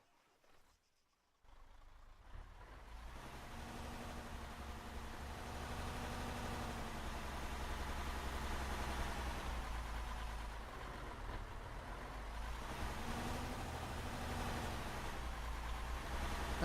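A HEMTT military truck in Arma 3 starts up and settles into a steady, close, low diesel idle with a continuous rumble and faint whining tones, no talk over it.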